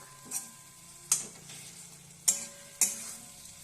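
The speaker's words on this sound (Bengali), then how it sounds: "এবার ভালো করে টমেটোটাকে মিশিয়ে দিলাম" Soft sizzle of tomatoes frying in a pan, with four or five sharp scraping clicks of a spoon stirring at irregular intervals.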